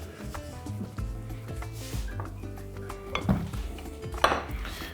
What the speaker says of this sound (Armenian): Կտրատում ենք նույն կերպ։ Նախ կտրում ենք ծայրերը։